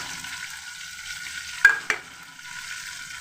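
Chopped ginger, garlic, shallots and curry leaves fry in hot oil for rasam with a soft, steady sizzle, broken by two sharp stirring clacks in the middle before the hiss settles back.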